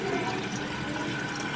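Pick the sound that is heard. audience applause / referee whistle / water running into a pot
water running into a pot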